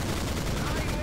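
A tank gun fires in the Steel Fury: White Tiger war game, a single dense, loud blast with crackling rumble filling the whole brief moment.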